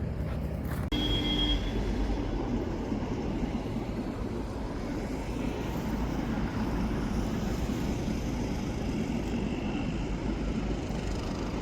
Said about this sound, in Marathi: ट्रेन पण आलेली आहे